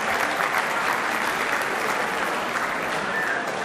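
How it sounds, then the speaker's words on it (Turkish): Steady, dense applause from an audience at a Paris 61 Trabzon association event for the disabled, loud and unbroken from start to end with no voices over it. "Güçlü alkışlarınızla."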